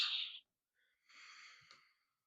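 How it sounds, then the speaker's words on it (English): Quiet, close breathing: a short airy inhale through the nose, a pause, then a longer, softer exhale out through the mouth, with no other sound around. "Try to breathe in through the nose and out through the mouth, elongating your exhale versus your inhale"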